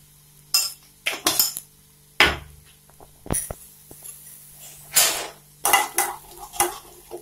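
Onion garlic masala frying in oil while a spoon stirs and scrapes the pan, giving sharp intermittent metal clinks and scraping strokes over a quiet steady sizzle, close and without talk.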